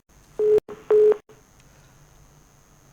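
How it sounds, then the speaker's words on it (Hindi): Telephone keypad tones sound while a TV news studio tries to connect a call to a Congress MLA, with two loud steady tone bursts and a faint continuous high line underneath, no speech. "कांग्रेस विधायक गीता भुक्कल इस वक्त फोन लाइन पर बनी हुई हैं।"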